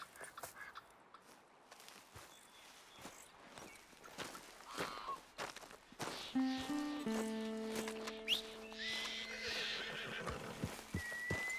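A horse neighs and whinnies loudly in Red Dead Redemption 2, with hooves clip-clopping and game ambience around it, the whinny growing stronger in the second half, and no speech.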